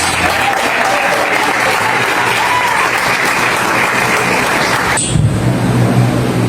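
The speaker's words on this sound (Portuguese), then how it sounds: "as palmas que exaltam o nome do Senhor Jesus" A church congregation claps loudly and steadily in praise of Jesus, a dense wall of applause filling the room for about five seconds before it drops off abruptly.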